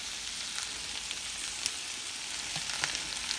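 Okra fries in a kitchen pan with a steady, soft sizzle and a few faint crackles throughout, heard alone without any voices.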